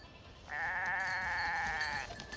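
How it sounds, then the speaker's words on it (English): A goat lets out one long, wavering bleat at a moderate distance, held for about a second and a half over a quiet outdoor background hiss. "Some goats."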